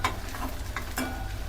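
Onions stir-fried in hot oil in a home kitchen, a steady close sizzle with soft scraping stirs of a spatula over a low background hum, no talking.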